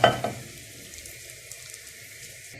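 Rice stirred and fried in a pan, with a few clattering scrapes at the start giving way to a soft, steady sizzle close by.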